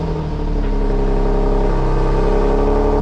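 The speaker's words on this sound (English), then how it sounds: "Well, that's how the car sounds currently" A Nissan 370Z on its stock exhaust runs steadily, a loud, even engine hum with a firm low rumble and no revving, sustained throughout with nothing else audible.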